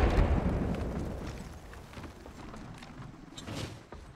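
A grenade goes off in the Apex Legends Mobile video game: a loud, rumbling blast at the start that decays into a long noisy tail, followed by faint scattered game sounds.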